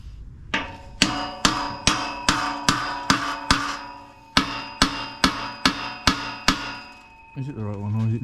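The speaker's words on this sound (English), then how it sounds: "You might have to hammer it on." Sharp metallic hammer blows ring out at a steady beat, about a dozen strikes with a brief pause partway, as a corroded part is hammered on during Land Rover Evoque rear differential work, followed by a voice speaking.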